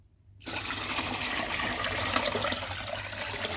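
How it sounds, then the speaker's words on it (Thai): About five litres of drinking water pour steadily into a pot of boiled cempedak for making wine, beginning abruptly and rushing evenly and close at hand. "น้ำส่วนที่เหลือเนี่ยเราใช้เป็นน้ำดื่มนะคะ เราจะเทลงไปเลย 5 ลิตร"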